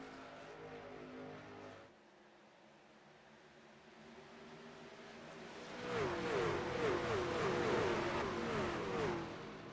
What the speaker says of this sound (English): Green flag is out. The 23 of Crooks moves, and we're racing again